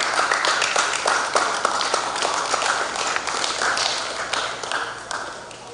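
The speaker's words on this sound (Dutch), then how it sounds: "ik ga toch vragen voor deze mensen een applaus te geven" Mourners at a funeral service and cremation applaud two people, a steady, moderately close patter of many hands that carries on evenly and fades a little at the end.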